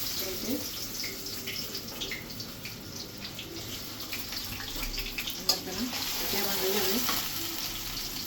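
Fish or vegetables sizzling in oil in a pan while cooking a hilsa dish, a steady close hiss with faint stirring clatter and a brief sharp knock partway through.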